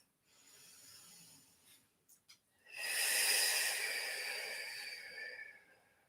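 During a relaxing fertility yoga session, a soft inhale is followed by a long, close, breathy exhale blown out of the mouth, loud at first and then slowly fading.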